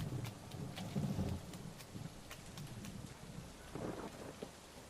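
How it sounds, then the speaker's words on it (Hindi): Steady rain falls with low rolling thunder rumbling through, loudest early on, and scattered drips striking a surface. "निधि बारिश को देख चिढ़ते हुए बोली"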